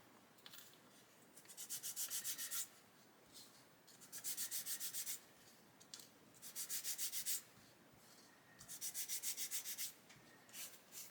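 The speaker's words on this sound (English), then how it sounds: "with the sanding stick I can go sideways all day long and it doesn't bend it at all" A plastic part from a Meng 1/35 Chieftain Mk10 model kit is worked with a 600 grit sanding stick in four quiet bursts of brisk back-and-forth rasping, each a second or two long, with short pauses between.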